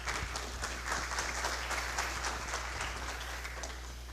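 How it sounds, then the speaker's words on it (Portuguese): Steady audience applause at a marketing talk as a speaker is welcomed, a continuous even patter of many hands with a low hum beneath. "Uma salva de palmas."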